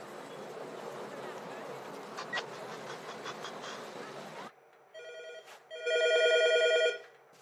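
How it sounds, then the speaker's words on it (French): A bank branch telephone rings in a film heist scene, a short electronic burst followed by a longer, louder ring after a noisy stretch of buzzing background. "dans moins d'une minute, nous allons faire sonner le téléphone de l'agence"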